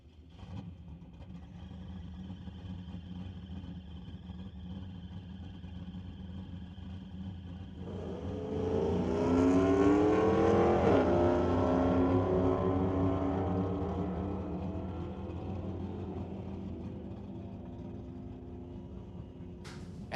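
A 2002 Pontiac Firebird at the starting line of a sportsman drag race: a steady engine rumble that surges loud around the midpoint as the car launches, climbing in pitch, then slowly fading as it pulls away.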